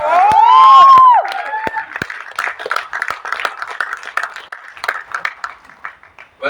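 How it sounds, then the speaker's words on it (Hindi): Clapping and scattered cheers from the audience at the Jaat trailer launch event, a loud whooping burst at the start giving way to a ragged, moderately loud stream of hand claps that thins out toward the end. "जोरदार तालियां."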